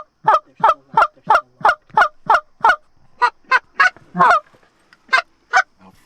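Geese flying in toward decoys during a goose hunt, a loud run of repeated honks in a quick even rhythm, then scattered calls with short gaps, close and clear with no talk.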